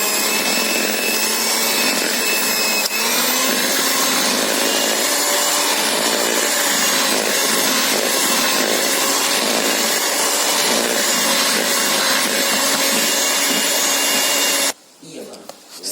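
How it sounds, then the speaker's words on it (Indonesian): An electric mixer whirs steadily while beating nastar cookie dough, a constant high-pitched motor whine that runs loud and unbroken before cutting off abruptly near the end. "Jadi ini di mixer hingga merata."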